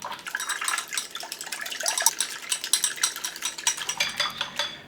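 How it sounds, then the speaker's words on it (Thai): Rapid, busy clinking and scraping of a utensil beating eggs with a little water in a bowl, a continuous rhythmic whisking with a wet, liquid edge. "หยอดน้ำเปล่าลงไปเล็กน้อยครับ ตีผสมให้เข้ากันดีเลยครับ"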